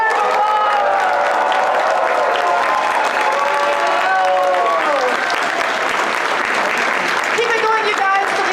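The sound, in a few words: audience applause at a Red Dead Redemption panel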